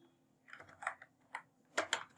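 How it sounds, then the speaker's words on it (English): Typing on a slightly worn computer keyboard, a quick irregular run of faint, close key clicks with short pauses between bursts, alone without speech. "when I type my keyboard, you might be listening about the typings"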